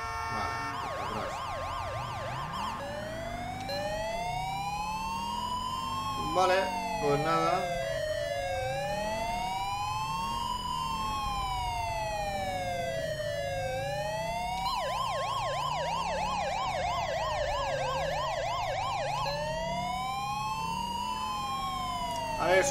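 An ambulance siren sweeps and wails continuously during a police escort in a GTA LSPDFR mod game, with overlapping siren tones rising and falling loudly throughout while someone talks over it.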